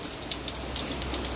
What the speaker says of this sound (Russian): Дождь идет сильный